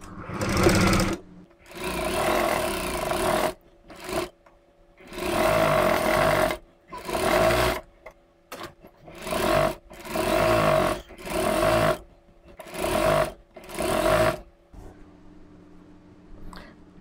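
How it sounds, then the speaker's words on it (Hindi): Sewing machine stitching blouse lining fabric in bursts: about ten runs of a loud, rapid mechanical whirr, each a second or two long, separated by short pauses. "हम यहाँ से इस तरफ सिलाई लगा लेंगे चारों तरफ, और इसको ओके करेंगे"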